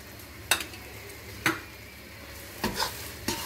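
Semolina halwa roasts in ghee in a kadhai, with a spoon scraping and stirring in four sharp strokes over a soft, continuous frying sizzle.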